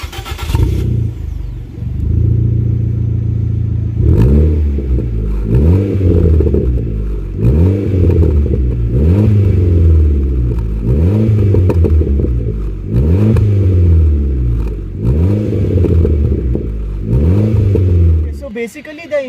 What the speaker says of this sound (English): So let's hear some exhaust note.